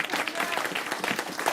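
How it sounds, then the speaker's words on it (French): A crowd applauds children playing traditional northern French café games at an estaminet, a short, fairly loud burst of clapping with voices mixed in. "Vous pouvez applaudir, hein. Vous avez le droit de les encourager."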